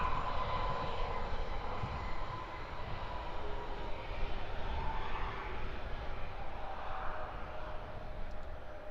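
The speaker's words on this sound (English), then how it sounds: "Wizz Air flight 3645. She's in from Suqueba, A321-200." A Wizz Air Airbus A321-200 arriving, its engines a steady distant rumble and whine that hold evenly throughout without talk.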